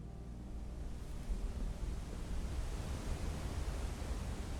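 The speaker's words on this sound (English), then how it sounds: "That must have been the wet waterfall I was hearing before" Steady rushing water from a waterfall in the video game Blue Prince, a broad, even roar that holds constant throughout with no voices.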